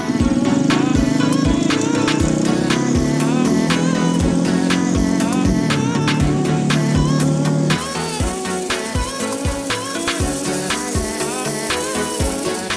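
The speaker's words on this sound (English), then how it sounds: "We travel along the paved road on our motocross bikes" Motocross bikes riding along a paved road near Cinnamon Pass on Colorado's Alpine Loop, loud engine drone with wind rush and bumpy buffeting throughout, the engine pitch shifting as the rider changes gear.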